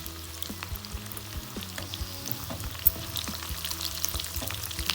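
Batata vadas fry in oil on a medium flame, giving a low, steady bubbling sizzle with scattered small pops and occasional light clinks, close and continuous.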